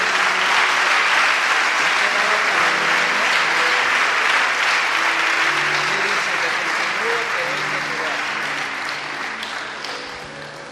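A church congregation claps steadily as an offering of praise, dense sustained applause from many hands with voices mixed in, slowly fading over the final seconds.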